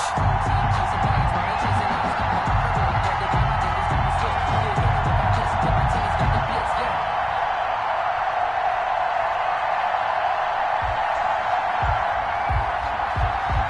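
Crowd noise from a Baltimore stadium in an American football video game on PS4, Ravens versus Seahawks before kickoff, a steady loud roar of cheering fans filling the whole stretch with no speech.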